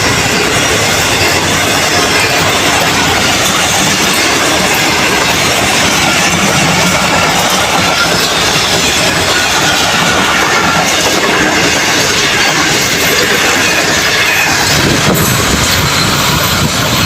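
A business-class train in Pakistan rolls past close by, a loud, steady rumble of wheels and carriages with a faint metallic squeal, filling the whole stretch without any voices.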